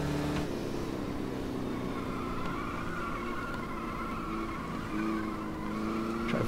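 Stock car engines drone at a steady high pitch in a racing video game, with a sustained tire skid and squeal running across the whole stretch and a brief gear change near the end.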